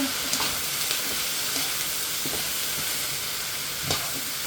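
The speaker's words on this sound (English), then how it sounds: "Continue to stir." Zucchini sizzles and hisses steadily in a hot pan while being stir-fried, with faint scraping stirs and occasional soft clicks of the utensil under the constant frying noise.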